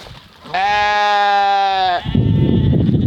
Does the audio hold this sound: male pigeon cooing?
no